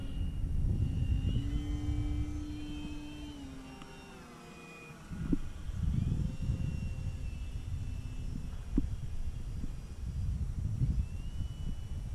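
An Eflite Maule M7 RC model airplane with a smart ESC takes off, its electric propeller drone rising and falling in pitch, dipping quietly mid-clip before swelling again steadily outdoors.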